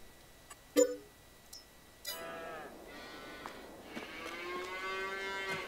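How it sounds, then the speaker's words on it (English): Cattle moo repeatedly in a Farming Simulator 22 herd of thirty cows, with several overlapping drawn-out calls from different animals building toward the end, after a quiet opening with a few short clicks. "So we've got 30 cows,"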